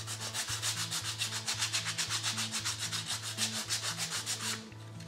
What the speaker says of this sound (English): I'm just going to scuff those up a little bit with my sandpaper